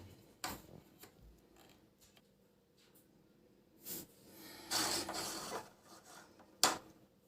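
Vent duct being cut to fit a toilet exhaust fan: a handful of short, scattered rasping bursts, quiet and close, separated by near-silent gaps, with no talking.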